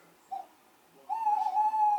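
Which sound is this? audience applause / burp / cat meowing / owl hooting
owl hooting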